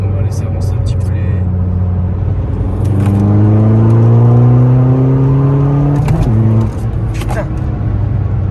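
A small kart engine revs loudly and close, climbing in pitch through long rising sweeps, then drops sharply at a gear shift before pulling up again. People talk over it.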